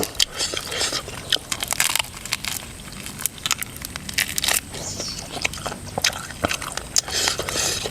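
Grilled rat being bitten and chewed, giving loud, close, crisp crunches and crackles in irregular bursts with no speech.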